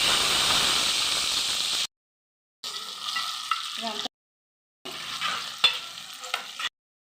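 Gongura leaves are stirred into a prawn curry in a pan, with close hissing and sizzling and stirring scrapes that come in three separate bursts divided by silent gaps.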